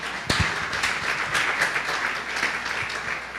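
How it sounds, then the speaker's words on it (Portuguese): A church congregation bursts into dense, lively applause after a sharp opening clap, keeping up a steady roar of hand claps for the few seconds. "Uma salva de palmas ao Senhor."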